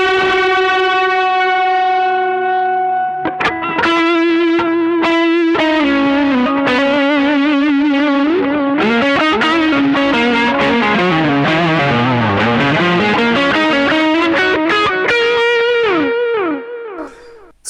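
Distorted electric guitar on a Yamaha Revstar RS502 with P90 pickups, played on the neck pickup, with a warm, round tone: a sustained chord, then fast bent melodic runs, loud and close throughout.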